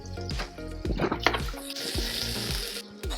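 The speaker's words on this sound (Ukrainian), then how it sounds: "Смажимо наші білі гриби до такої золотистої шкоринки" Porcini mushrooms sizzle and crackle in a hot pan, with wooden utensil scrapes and light knocks as they are stirred.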